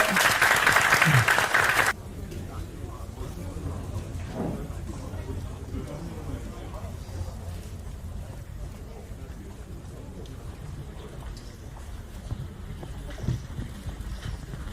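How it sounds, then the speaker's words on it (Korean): A loud burst of audience applause at a university student forum with a former party leader lasts about two seconds, then cuts off into the low murmur and rustle of a large room. "우리 대표님께 다시 한번 큰 박수 부탁드리겠습니다."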